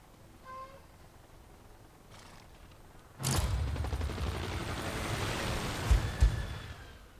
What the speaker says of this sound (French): J'ai de méchants hélicoptères qui veulent m'attaquer.